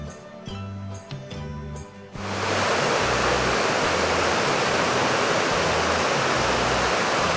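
Rushing water from the cascades of the Bigar waterfall makes a loud, steady roar that begins abruptly after about two seconds of quieter tonal sound and then continues unbroken.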